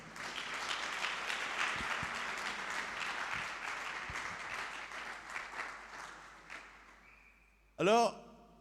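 A church congregation applauds with sustained clapping that gradually fades out, followed by a brief loud burst of speech near the end.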